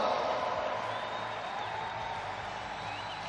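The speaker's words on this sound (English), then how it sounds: "the crowd are getting excited about it" Steady roar of a home crowd cheering at the Universiade women's 5000 m race in Naples, a broad continuous swell of spectators under a commentator's voice.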